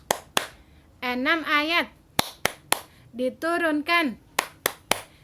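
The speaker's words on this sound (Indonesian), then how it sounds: "Oke, kita mulai ya tepuknya." Children's rhythmic clapping game 'tepuk An-Nas', with crisp, evenly spaced hand claps framing sung, chant-like phrases from a young voice in a close, bright classroom setting.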